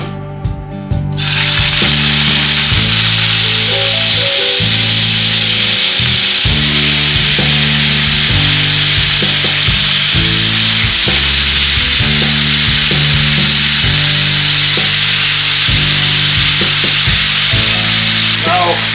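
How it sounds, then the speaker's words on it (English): Marinated pork cubes sizzle steadily and loudly in hot oil, a dense, continuous frying hiss that starts sharply and keeps going throughout, with a low rhythmic background hum underneath. "Now we're adding our marinated"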